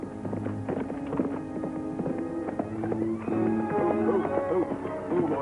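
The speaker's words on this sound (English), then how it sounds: "That's Al's horse" Horse hooves clip-clop in a rapid, continuous rhythm from a 1950s TV western, with orchestral music playing over them.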